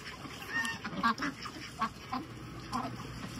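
Muscovy ducks about a year old and six-month-old Indian ducks quack in short, scattered calls at a bird house in Pune, a handful of moderately close honks over a soft background hum.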